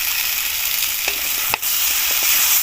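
Tomatoes, some still green and home-grown, sizzle and fry in a pan on a hot stove for a tilapia fish curry, with a steady close hiss and a few short stirring clicks, no voices.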